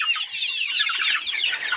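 Chickens cluck and chatter nonstop at close range, a dense, busy layer of overlapping calls with no one talking.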